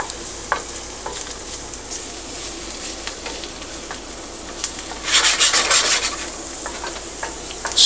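Vegetables sweat and sizzle in a pan, a steady close frying hiss with scattered scrapes and stirring taps, swelling louder for a moment near the end.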